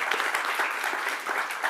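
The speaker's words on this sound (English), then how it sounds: "give a big round of applause here" A round of applause from a conference audience at a community engagement summit, dense steady clapping close by with no talk over it.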